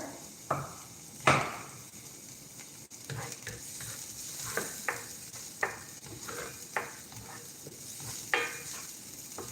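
Garlic sizzles and fries in a hot pan as a base for an oxtail dish, with a steady hiss under scattered sharp clicks and scrapes of a utensil stirring, fairly close.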